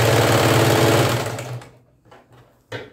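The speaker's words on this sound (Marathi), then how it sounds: "त्याच्यावरून शिलाई घ्यायची" A sewing machine runs stitches along a readymade blouse being taken in for fit, a loud steady close whir for about a second and a half that trails off into a few short stuttering bursts.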